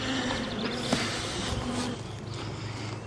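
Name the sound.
honeybees buzzing around a busy hive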